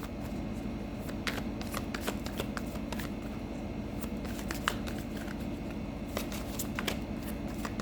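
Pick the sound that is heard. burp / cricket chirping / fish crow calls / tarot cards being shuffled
tarot cards being shuffled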